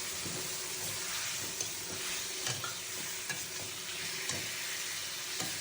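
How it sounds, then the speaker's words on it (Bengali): Fish, potato and tomato sauté together in a pan, giving a steady close sizzle broken by regular scraping stir strokes every second or so, fairly quiet and with no talk. "টমেটো আর মাছ কিন্তু একসাথে কষালাম"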